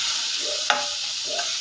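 Tomatoes with turmeric frying in a pan, a steady close sizzle with one brief stirring scrape in the middle.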